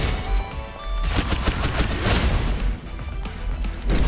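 Rapid, loud gunfire in the shooter game Snowbreak: Containment Zone, a dense run of bursts close up with no pause through the whole stretch.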